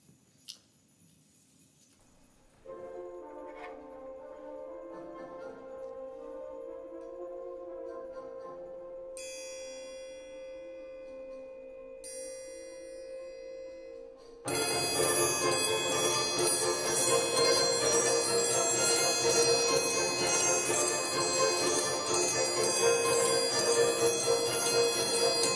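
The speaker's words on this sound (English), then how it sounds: "I'll play the triangle part for you" A triangle plays a difficult band passage: a sustained metallic ring enters after a short quiet start, then becomes a louder, brighter shimmering roll with dense repeated strikes through the second half.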